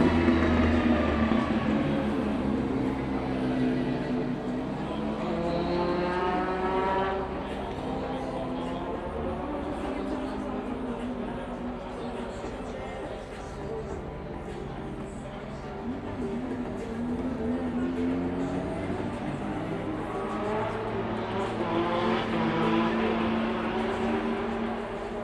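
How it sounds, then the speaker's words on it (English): A drift car with a BMW M50 engine at a practice session in Riga, heard as a continuous engine roar with rising and falling revs, steady and loud for the whole stretch, with crowd and track ambience blended in. "BMW M50 engine just keeps on providing."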